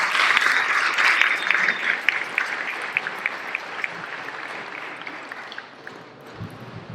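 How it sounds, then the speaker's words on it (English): Audience at a conference panel applauding, a dense burst of clapping that starts full and gradually thins and fades over about seven seconds, with no talk over it. "We can all give a round of applause for our panel."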